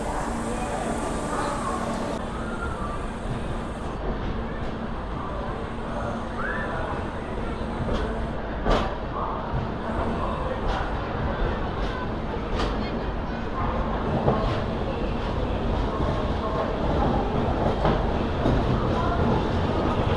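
An Intercity SF Express train rolls out of Vijayawada Junction, heard from on board as a steady rumble with rhythmic wheel clatter and occasional sharp clicks, while a voice talks throughout.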